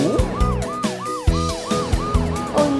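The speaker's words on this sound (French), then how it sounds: "Voilà Amber l'ambulance." A cartoon ambulance's siren wails in a fast repeating up-and-down pattern alongside bouncy animated-show sound effects, loud and continuous with no speech.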